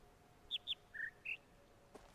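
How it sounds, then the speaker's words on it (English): Synthetic bird chirps from the puzzle video game The Witness: four short, faint whistled tweets, two higher then two lower, in quick sequence over a quiet background. "So we just heard that bird chirp, high and then low, right?"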